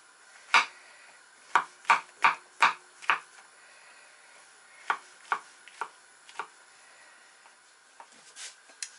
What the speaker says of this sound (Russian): А мы тем временем нарежем еще шампиньоны.